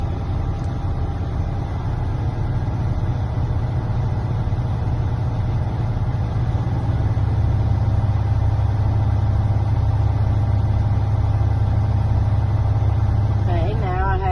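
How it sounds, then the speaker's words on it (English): A Class A truck with automatic transmission holds a steady, raised idle to build air pressure, a continuous low engine drone filling the cab at an even level with no revving up and down. "raising my RPMs up in between 10 and 15, holding it steady, not fanning it up and down"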